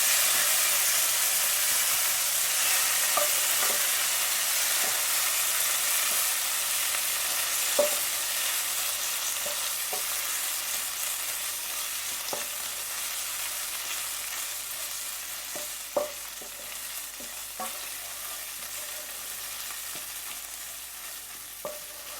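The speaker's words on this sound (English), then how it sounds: "And stir that in, so that's cooking nicely" Chilli pickle (naga achar) being stirred in a pan, a soft steady sizzle and hiss with faint scraping stirs and occasional sharp clicks of the spoon against the pan, alone with no talk.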